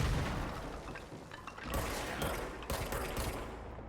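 Gunshots in the action game Control, a dense, loud barrage of shots and booming impacts filling the whole moment, with a few sharper cracks standing out near the end.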